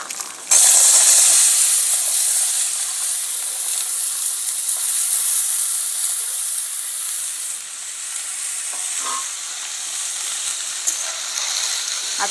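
Green beans drop into hot oil spiced with masala and turmeric, and a loud burst of sizzling hiss erupts. It holds steady and bright for several seconds, with occasional small clinks from the pan and no talking.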